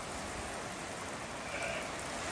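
A heavy rain downpour hisses steadily and densely outdoors, a continuous close wash of noise that swells slightly toward the end.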